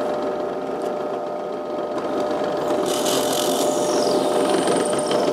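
A power drill bores a hole for a homemade azimuth and semi-elevation antenna bracket, a continuous close whirring grind that grows louder and rougher partway through, with no voices.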